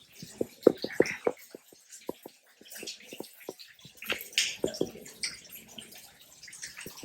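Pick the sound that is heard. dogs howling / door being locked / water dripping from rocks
water dripping from rocks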